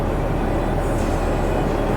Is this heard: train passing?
yes